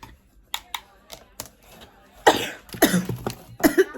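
Several short coughs from a woman doing her makeup in a getting-ready chat, with a sharper cluster of loud, close coughs near the end after a few lighter throat sounds.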